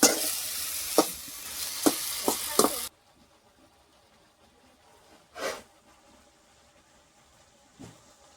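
Pumpkin leaf greens fry in a pan with a loud, steady sizzle and a few stirring knocks. The sizzle stops abruptly, leaving near quiet broken by two faint, brief clatters.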